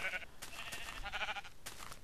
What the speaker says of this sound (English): Wow, there's a lot of sheep around.